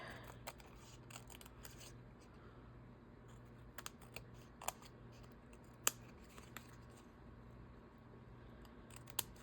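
Scissors trim material in short, sharp snips scattered irregularly over a quiet room background, each cut a faint crisp click rather than a loud one.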